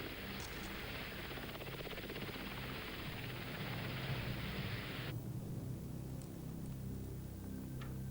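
Steady whirring rotor noise of a helicopter, a constant dense drone that continues throughout without a break.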